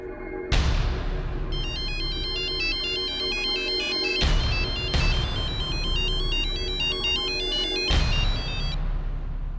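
A mobile phone rings with a bright, repeating melodic ringtone in a Hindi crime drama scene, loud and continuous for several seconds, punctuated by three heavy booming hits.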